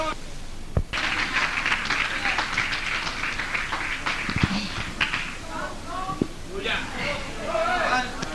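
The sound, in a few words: congregation applause in church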